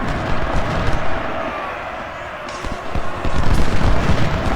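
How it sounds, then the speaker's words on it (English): Dense concentrated musket and artillery fire in a Civil War video game battle at Malvern Hill, a continuous loud crackle of overlapping shots and booms with brief stronger bursts throughout. "Doing some concentrated fire."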